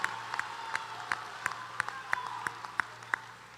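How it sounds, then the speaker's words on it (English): Applause for university graduates at a spring commencement ceremony, light and thinning, with a few distinct near claps in a loose rhythm over a faint crowd wash and low hum. "please give them another round of applause"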